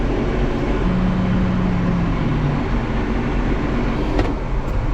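Grain truck engine running steadily as the loaded truck pulls ahead at a farm, a loud continuous rumbling drone with a brief higher whine partway through.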